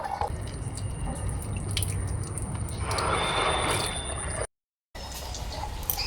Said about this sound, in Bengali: আমি এখন জল ভরছি।